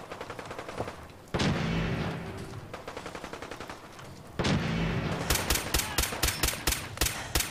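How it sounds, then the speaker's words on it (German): Gunfire in Fallout 4, with rapid repeated shots, two heavy blasts that ring out and fade, and a quick burst of sharp cracks near the end, all close and loud. "Jetzt habe ich aus Versehen geschossen und sie auf uns aufmerksam gemacht."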